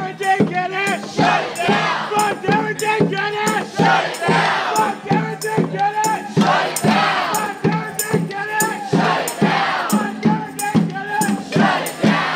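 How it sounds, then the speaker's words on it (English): Large protest crowd at a St. Louis street demonstration, many voices chanting at once in two overlapping rhythmic chants, loud and close, with shouts rising over a steady roar of the crowd. "Crowd so big, there's two competing chants."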